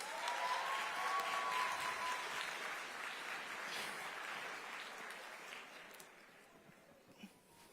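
An audience applauds at a live broadcast event, a steady wash of clapping that slowly fades toward the end, moderately distant.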